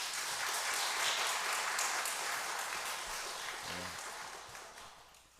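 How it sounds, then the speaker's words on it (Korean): A church congregation gives the choir a sustained round of applause at a Sunday worship service, dense, even clapping filling the room and slowly fading, with a brief voice near the end. "찬양대에 박수 한 번 더 해주시기를 바랍니다."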